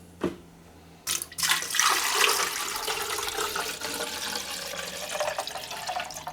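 Reverse osmosis filtered water pours steadily into the water tank of a Siemens EQ.300 coffee machine after a brief knock, a continuous rushing splash that stays close and fairly loud throughout.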